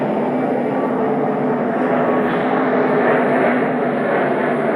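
An airliner taking off from a runway at Newark airport, its engines producing a steady, loud, broad roar that holds evenly throughout with no voices over it.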